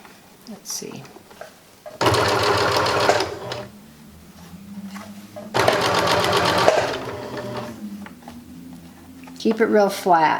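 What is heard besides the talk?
sewing machine stitching a seam on a shoulder bag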